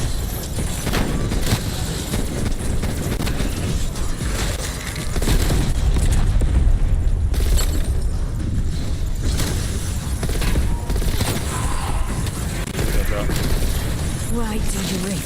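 Rapid weapon fire from a Cold War Zombies match, bursts of quick clattering shots layered with explosions and game noise, with a voice talking over much of it.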